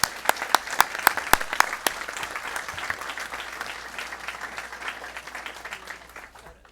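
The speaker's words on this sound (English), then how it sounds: "let's give everybody a round of applause" Applause from an audience at a school board of education meeting, a few loud sharp claps at first, then steady dense clapping from a modest crowd that slowly fades out.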